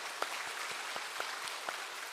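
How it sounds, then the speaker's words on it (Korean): A church congregation claps to welcome visiting members of a Bible-distribution organization during a Sunday service, a steady wash of applause with a few sharper claps standing out. "박수로 환영하겠습니다."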